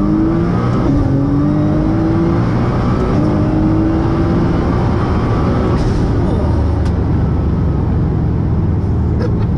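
A 1000 hp Nissan GTR with full Nismo styling accelerates hard in a sustained loud drone, engine pitch rising through gear changes, heard from inside the cabin with road roar beneath.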